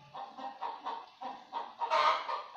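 A village chicken clucks in a run of short rhythmic calls that ends in a louder burst, distant but distinct against otherwise quiet surroundings, with no voices.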